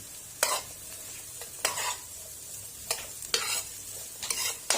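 Red and green peppers with onions being stirred in a pan, with repeated bursts of scraping and stirring over a steady low sizzle, spaced about a second apart, close and fairly loud.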